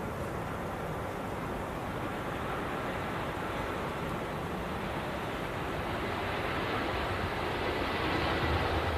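A Swiss airliner arrives at Manchester Airport in the early morning, a broad, steady engine rumble that swells slightly toward the end, with no voices.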